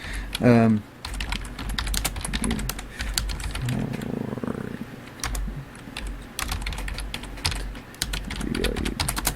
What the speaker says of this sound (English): Sorry if my typing is extremely loud.